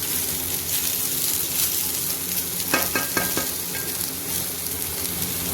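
Potatoes and French beans roast in a hot pan with a loud, continuous sizzle, broken midway by a few sharp scrapes of a stirring spoon.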